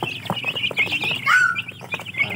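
Rhode Island chickens in a crowded cage, clucking and calling repeatedly up close, with a longer squawking note in the middle.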